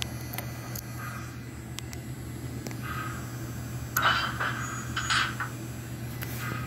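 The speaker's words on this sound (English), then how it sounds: "couplers pop open." Couplers on a 1950s American Flyer Northern model train with an MTH DCS PS3 sound system pop open in a series of sharp little clicks and two louder metallic pops over a constant low hum.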